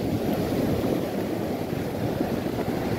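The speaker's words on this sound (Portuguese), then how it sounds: "Estar aqui e ouvir esse mar é maravilhoso." Sea surf rolling onto a beach at Caraíva, Bahia, a steady broadband wash of waves with wind noise, loud and continuous with no talk.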